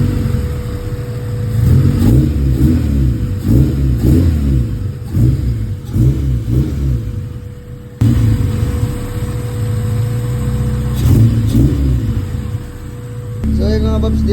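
A car engine left idle for a month and running rough from dirty internals revs repeatedly in loud, close bursts that rise and fall, then settles back toward a rumbling idle between throttle blips.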